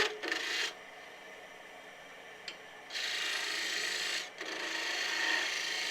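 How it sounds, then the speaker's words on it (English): Wood lathe parting tool cutting through the stem of a fairy toadstool house turning: sustained bright rasping hiss in two long passes, close and steady, with a short quiet gap between cuts and no talking. "we'll part it off to about 1/8 of an inch, and then we'll just snap that"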